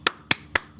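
Four sharp hand claps, evenly spaced about a quarter second apart, sound close and crisp against a near-silent background.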